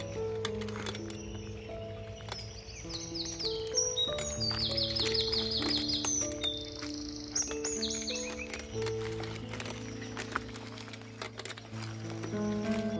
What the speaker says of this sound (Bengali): শুধু পাখির শব্দ শুনবো, ডাক শুনবো, আপনারাও শুনতে থাকুন।